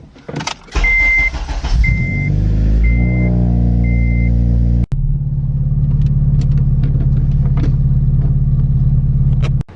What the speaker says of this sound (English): In my Civic Si, so I'm gonna do a cold start right now.